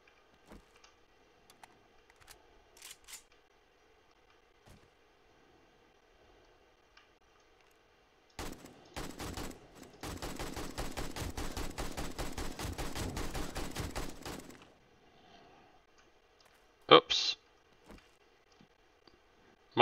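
Gunfire in the game 7 Days to Die: a long rapid automatic burst of evenly repeating shots lasting several seconds, preceded by a couple of single shots, then quiet with faint clicks and a final sharp report.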